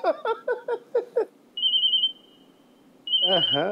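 A telephone ringing in two long electronic tones, each followed by a pause, after several short voiced bursts at the start.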